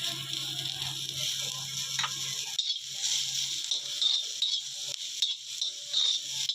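Onion and garlic frying in a pan while being stirred, a soft sizzle under intermittent scraping and clinking of a utensil against the pan, fairly quiet and close.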